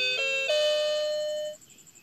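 A toy music telephone plays a short electronic chime melody after its star key is pressed, with bright stepped tones sustaining and then fading, close and fairly loud with no talking.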